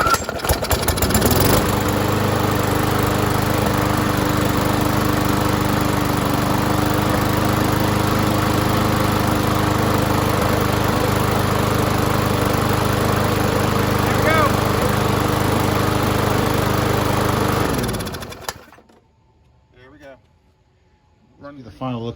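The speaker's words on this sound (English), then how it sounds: "This Craftsman on a Troybilt deck. This was a trade-in. It's Briggs classic engine. It's a 158cc." Craftsman lawn mower on a Troy-Bilt deck with a Briggs & Stratton Classic 158cc engine, water in the gas, starting up and running loud and steady for about sixteen seconds before cutting out, followed by brief talking.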